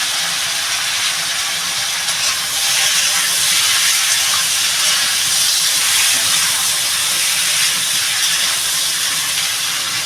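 Vegetables land in hot oil with chillies in a Bengali ridge gourd and potato curry with fish, and a loud, continuous broadband sizzle and hiss carries on steadily with no voices.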